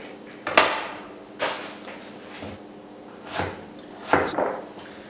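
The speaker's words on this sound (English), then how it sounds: "So I'm just going to shred up the cabbage first of all." A knife cuts through cabbage against a chopping board in four separate strokes, each a crisp crunch ending in a wooden knock, spaced about a second apart and heard close.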